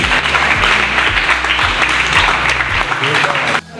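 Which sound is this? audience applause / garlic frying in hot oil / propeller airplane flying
audience applause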